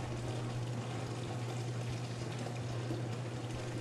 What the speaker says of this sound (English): Drain all the rinse water from the door spout.